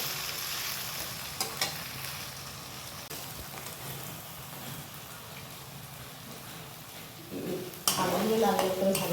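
Potatoes frying lightly in a pan give a soft, steady sizzle with occasional stirring scrapes, and a louder burst of sizzling and clatter near the end.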